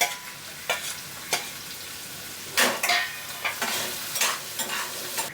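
Spiny gourd being stirred in a pan with oil and ginger-garlic paste, giving soft scraping strokes at an uneven rhythm over a faint sizzle, close and alone with no voices.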